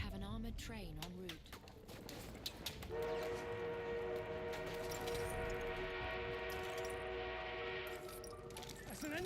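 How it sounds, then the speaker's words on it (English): An armored train in the Battlefield 1 game sounds a long, drawn-out horn blast over steady rumbling, sustained for several seconds after some earlier clattering noises. "We have an armored train en route."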